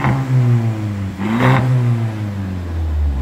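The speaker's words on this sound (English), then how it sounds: "Hungry little Mercedes German four-cylinder." A 2016 Mercedes German four-cylinder car engine revs in two close blips over a steady idle, loud and near, with the exhaust swelling and settling between hits. No talking.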